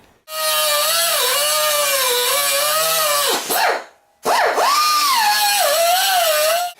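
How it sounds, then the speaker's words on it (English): A power tool cuts the head off a bolt with a loud, sustained whining grind that changes pitch under load, stops briefly, then resumes for another long, strained run close by. "I'm going to cut the head off of that bolt and use it"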